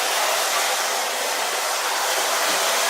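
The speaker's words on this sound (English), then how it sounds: "Before I pull out the curls, I'm just going to do a gentle light spray." A continuous airy hiss of aerosol hairspray sprays gently close up over curled hair for a few seconds, steady and bright without pauses.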